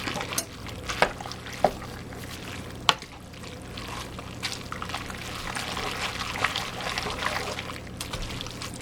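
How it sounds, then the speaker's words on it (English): A wooden spoon stirs a crockpot meal up from the bottom, giving a steady wet scraping and sloshing with a few sharp knocks against the pot, close and fairly loud, with no voices. "I got my wooden spoon here. I'm going to stir up from the bottom."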